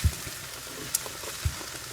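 Ground chicken sizzles in a pot while being stirred, a steady hiss with a few soft bumps of the spoon and one brief high clink, close and alone.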